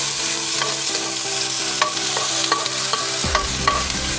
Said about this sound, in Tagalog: Magigisa itong luya.